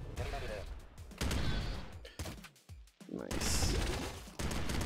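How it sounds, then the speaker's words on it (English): Explosive hyper glove weapon firing in the top-down shooter Nuclear Throne Ultra Mod, a run of loud punchy blasts and crashes packed across a few seconds with brief gaps, mixed with game effects. "The hyper glove. This uses explosive ammo as well"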